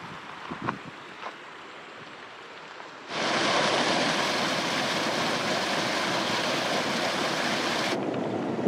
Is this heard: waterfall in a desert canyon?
yes